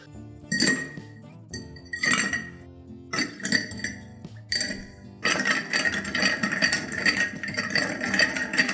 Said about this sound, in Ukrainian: Додаю лід до змішаного келиха і перемішую.